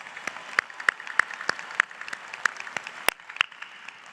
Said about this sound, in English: Let's give a round of applause to the family and friends.